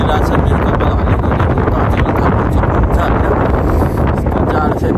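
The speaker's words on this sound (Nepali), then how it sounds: "देख्न सक्नुहुन्छ अहिले हावा चाहिँ बबाल चलिरहेको छ" Strong cold wind blasting across a bridge in Korea, a loud continuous roar buffeting the microphone throughout, with a voice speaking faintly underneath.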